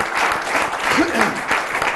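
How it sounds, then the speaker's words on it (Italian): An audience applauds Veneto sports officials at a regional Olympic committee gathering for baseball, cricket and golf, a dense, loud burst of clapping lasting about two seconds, with a voice briefly audible through it. "Allora facciamo un applauso ai nostri dirigenti veneti"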